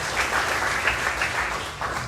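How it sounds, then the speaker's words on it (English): An audience at a school district board bond meeting gives a brief, dense burst of applause that stays steady and fills the room for about two seconds. "Let's give him a round of applause."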